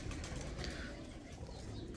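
Pigeons kept by fanciers coo faintly and steadily over a dense, low background murmur, with soft repeated calls blending together and no clear talking.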